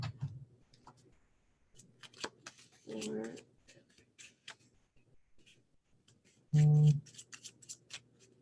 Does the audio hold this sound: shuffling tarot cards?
yes